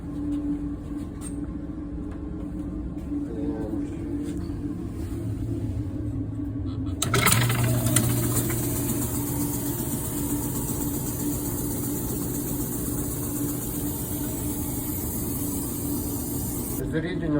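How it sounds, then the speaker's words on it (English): A motor in lab apparatus for a solid argon experiment starts partway through, shifting a low hum into a louder, steady whirring drone with a high whine, while a voice talks. "let's switch on the motor"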